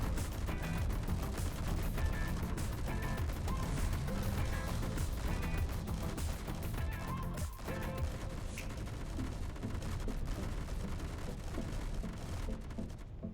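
Autocannon fire from a ship in Space Engineers, a rapid, steady stream of sharp shots layered over a rumbling low bed of impacts, continuous and fairly distant.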